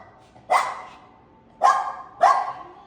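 A dog barks three times at people of the household: one sharp bark, a pause, then two more in quick succession, fairly close and clear against a quiet background.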